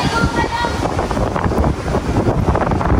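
Strong seaside wind buffets the microphone in a steady, roaring rush, with faint surf or water noise mixed underneath; no clear speech.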